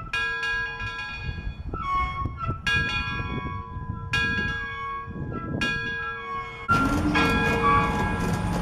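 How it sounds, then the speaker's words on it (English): The bell of American Oil Company steam locomotive 930 rings close by in slow, even strikes, each leaving a long metallic ring. About six strikes are heard before a louder, noisier stretch at the end. "ring the locomotive's bell"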